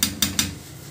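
Chicken karahi ingredients being stirred in a pot, with three quick metallic scrapes and clanks close up in the first half, then a quieter low rumble.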